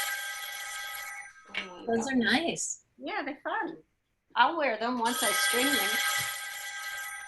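A home telephone rings with a bright electronic trill, loud near the start and again toward the end, while people talk in between during a craft session.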